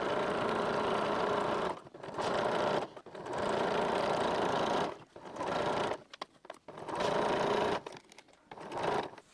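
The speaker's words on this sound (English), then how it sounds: "I'm just going to do a straight top stitch to hold this zip in place." A sewing machine runs a straight top stitch to hold a zip on a quilt-as-you-go cushion cover, whirring in several close bursts of one to two seconds separated by short pauses.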